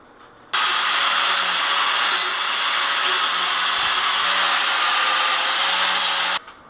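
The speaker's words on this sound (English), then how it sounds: "Smoothing out all the grinds here." A grinder smooths welds and grind marks on a Honda CB350 motorcycle frame in a custom shop, running as one steady loud whine for about six seconds with a sharp start and stop.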